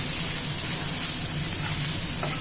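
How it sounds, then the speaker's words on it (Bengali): Potatoes frying in a pan with salt and turmeric give off a steady, close hiss of sizzling oil that holds even for the whole short stretch. "এবার আলুটা আবার একটু ভাজা ভাজা করে নিচ্ছি"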